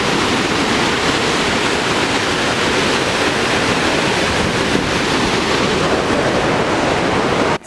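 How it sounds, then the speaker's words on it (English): A waterfall in Yosemite, a loud, unbroken rushing roar heard up close, with a brief knock at the very end. "We are at the waterfalls."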